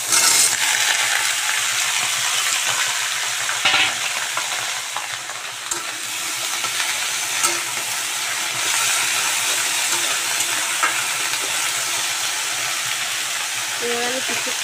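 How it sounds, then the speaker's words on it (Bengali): Vegetables tipped into a hot pan and frying, giving a loud, steady sizzle and hiss that carries on without a break, with faint stirring scrapes now and then. "এবার আমি সবজিটাকে দিয়ে দেবো।"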